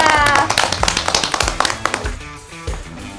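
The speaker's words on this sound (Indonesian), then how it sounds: "Tepuk tangan untuk Garox MC Indonesia." An audience claps in applause for an Indonesian custom motorcycle club, a burst of sharp, close hand claps with an uneven rhythm that thins out toward the end.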